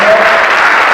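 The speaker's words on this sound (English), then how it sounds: "Okay, give these young men a round of applause." Audience applause for a group of young men lined up at a fathers' conference, a dense, steady wash of clapping heard loud and close for about a second.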